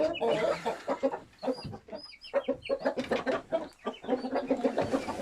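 Aseel (Hint) fighting-breed chickens cluck close by in a busy, overlapping series of short calls, continuous and fairly near with no talking.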